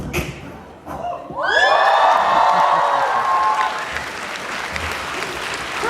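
Audience at a comedy show at a university Chinese student spring gala breaking into loud, sustained clapping with some cheering, swelling after a brief quiet and holding steady.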